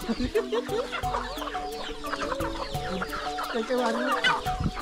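Many chickens cluck together in a busy, continuous chorus at a Filipino farm or cave site. The clucking is close and dense, and faint rooster-like calls rise through it.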